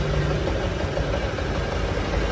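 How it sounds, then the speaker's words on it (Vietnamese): A Honda AB 125 scooter engine upgraded to 160cc idles right up close, a loud, steady mechanical drone without pause. "Đây là tiếng máy nha các bạn."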